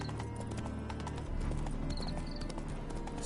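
A spooked horse in the video game The Witcher 3: hooves clop steadily over a dense background rumble, with a brief high whinny-like tone mid-way; no talking.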